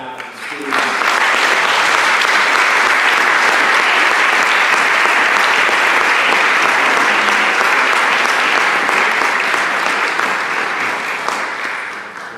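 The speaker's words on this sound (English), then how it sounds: "how about one more round of applause for the staff, the students." A board of education meeting audience gives a long, loud round of applause for the staff and students, sustained clapping that starts sharply, holds full and steady for many seconds, then begins to thin near the end.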